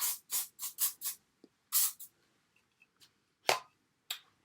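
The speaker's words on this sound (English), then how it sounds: "you can either put some hairspray, some regular old hairspray for me, and just" Hairspray spritzed onto flat-iron curled beach waves: a quick series of short, close hissing bursts in an uneven rhythm, with a few softer puffs after a pause and no talking.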